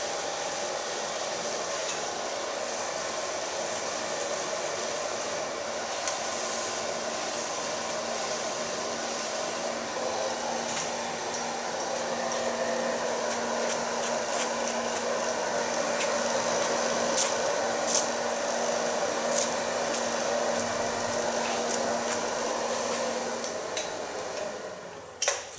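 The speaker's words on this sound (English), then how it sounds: "Start blow drying in the neckline." Hair dryer blow-drying a classic bob at the neckline: a continuous steady whoosh held close and loud throughout, with faint clicks and brush ticks scattered over it and no talking.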